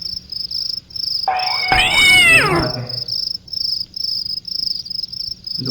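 A cat in the flash video game The Visitor lets out one drawn-out, wavering meow, loud and close, over a steady pulsing chirp of crickets that runs throughout.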